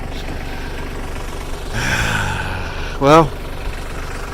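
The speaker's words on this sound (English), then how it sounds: "It's a little tractor that could." A little tractor idles with a steady, low, continuous rumble throughout, while someone briefly speaks over it.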